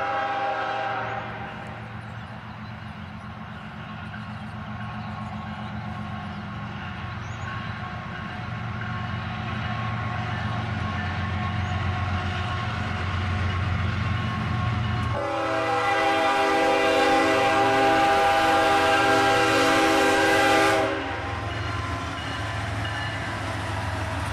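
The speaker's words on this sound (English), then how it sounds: "we almost immediately heard a train on the other side of town" A freight train led by a Norfolk Southern ES40DC locomotive rumbles steadily nearby as a loud, sustained multi-tone horn blasts for several seconds midway, then the rolling rumble continues.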